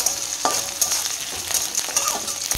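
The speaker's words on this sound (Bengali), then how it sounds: "তখন একটু লাল লাল করে ভাজা এগুলো দিয়ে দিচ্ছি শুকনো লঙ্কা, পেঁয়াজ, বিউলির ডাল আর ছোলার ডাল।" Dry red chillies, onion, biuli dal and chana dal sizzle steadily in hot oil, with a few sharper scrapes and clatters as the pan is stirred.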